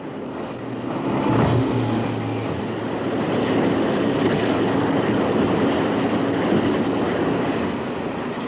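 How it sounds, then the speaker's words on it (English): Powerful New Zealand jet boats drive through large river rapids on an expedition, a broad loud roar of engines and rushing water swelling after the first second and holding steady, with no voices. "Now they'd been joined by a team of jet boats from New Zealand."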